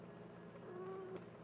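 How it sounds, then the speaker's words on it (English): A house cat gives a soft, faint meow, a single drawn-out tone rising briefly near the end, heard indoors under a low background hum. "my kitty"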